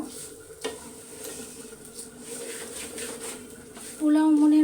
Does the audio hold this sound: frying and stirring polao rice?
yes